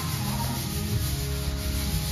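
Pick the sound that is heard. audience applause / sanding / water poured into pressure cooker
sanding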